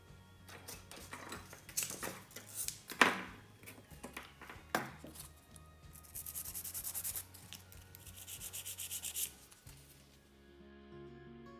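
A nail file rubs and scrapes against acrylic nails in short, repeated back-and-forth strokes, close and fairly quiet, with occasional faint clicks and light taps between the bursts of filing.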